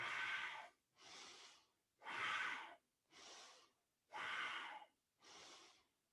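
Slow, deep yoga breaths into the belly by a person with Parkinson's: six audible breaths alternating inhale and exhale in a steady rhythm, close and fairly quiet.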